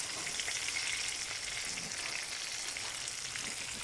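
Chicken pieces crowded in a pan for chicken parmesan, frying to brown with a steady, soft hissing sizzle that stays even throughout, heard close with no talking.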